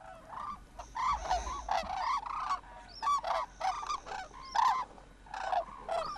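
Red-crowned cranes feeding in a family group outdoors, giving loud, repeated honking calls in quick overlapping bursts, with no voices.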